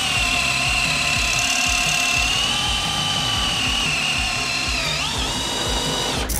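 A Hercules brushless cordless drill runs continuously with a loud steady whine and a strong motor hum, drops and wavers briefly under load near the end, then stops.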